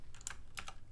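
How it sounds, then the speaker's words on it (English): A few quick clicks on a computer keyboard, including the X key, sound close and fairly quiet in a small cluster, then the room goes still. "let's press the X on the keyboard"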